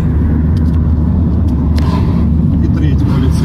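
A steady low rumble of a car rolling along a road, heard from inside the cabin with passengers who are police officers. The drone stays even and fairly loud the whole time.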